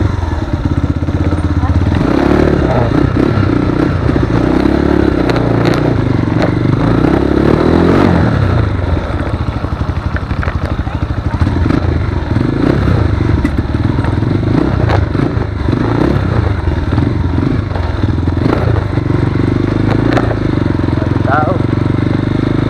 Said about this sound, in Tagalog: Maraming mga motor.